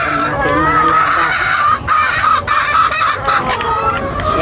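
Chickens and a rooster kept as pets cluck and squawk close by in a busy, continuous chorus, with a rooster crowing among the loud fowl noise.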